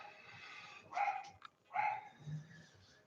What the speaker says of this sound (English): That dog is loud.